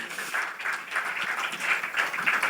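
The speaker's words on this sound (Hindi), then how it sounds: "तो जोरदार तालियां हो" Steady applause from the audience at a Hindi-language press conference in India, a dense, even wash of many hands clapping that holds at a moderate level for the full few seconds with no talking over it.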